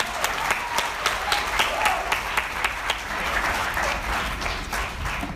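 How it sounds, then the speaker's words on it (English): High school graduation audience in India claps steadily for the class of 2017, a dense, even round of applause with individual sharp claps standing out near the front, and no voices over it. "Please, can we have a round of applause for class of 2017?"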